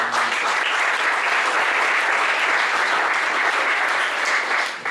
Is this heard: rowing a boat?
no